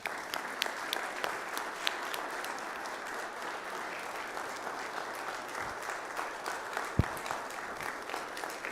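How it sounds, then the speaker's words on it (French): Fathers and children in a church congregation applaud for the mothers on Mother's Day, a fairly quiet, steady patter of many hands with a few sharper claps standing out and one loud knock near the end. "Je demande maintenant à tous les papas et tous les enfants, nous qui sommes là, d'applaudir pour nos mamans, s'il vous plaît."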